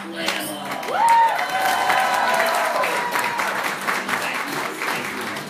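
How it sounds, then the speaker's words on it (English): Applause and cheering from an audience at a drag awards show, a steady wash of many hands clapping with a rising whoop, while music plays underneath. "Now make your hands clap for the hammer of Glamour."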